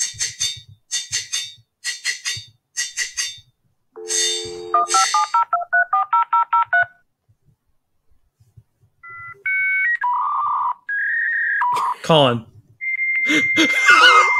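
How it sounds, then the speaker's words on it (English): A dial-up modem handshake: a burst of dialing tones, a stepped run of beeps, then harsh screeching and hissing tones, loud and alone. "It's dial up. old ass internet."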